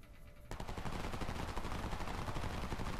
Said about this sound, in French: je sais pas pourquoi ils tirent les autres